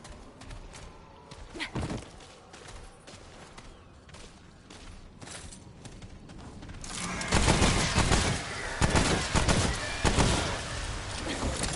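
Spitfire weapon from Remnant: From the Ashes, a burning-damage gun, firing in rapid bursts; quieter crackling shots give way to a louder, dense volley of automatic fire in the second half.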